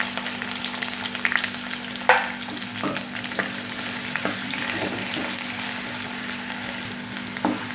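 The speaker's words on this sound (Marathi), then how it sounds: "कांदा चांगला फ्राय करून घ्यायचा आहे." Chopped onion frying in a pan with mustard seeds, cumin and curry leaves, giving a steady, close sizzle throughout, broken by a few faint stirring scrapes.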